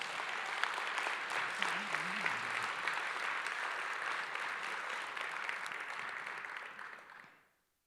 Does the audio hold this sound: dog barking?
no